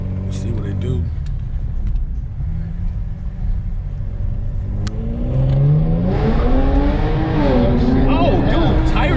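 A tuned Genesis G70 with a JB4 accelerates hard, its engine rising loudly as the tires break loose, with excited voices talking over the roar.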